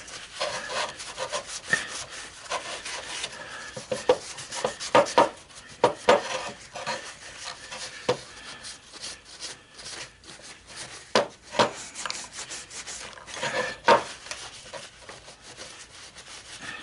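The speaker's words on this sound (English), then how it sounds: "with taking it to the wire wheel. Go ahead and see if I can't kind of wipe a bunch of this off of this one." A wire wheel scrubs casting sand off a sand-cast scrap copper ingot, giving a continuous gritty abrasive rub with irregular louder scraping bursts, close and alone with no talking.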